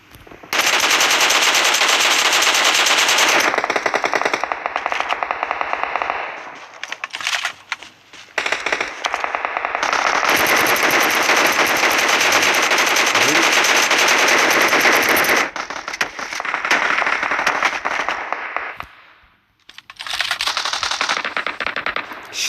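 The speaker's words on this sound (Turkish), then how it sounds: "Bak, tarafta da çatışma var." Gunfire in a PUBG Mobile firefight: long, loud bursts of automatic rifle fire rattling continuously, broken by short pauses and a few separate shots, with no speech.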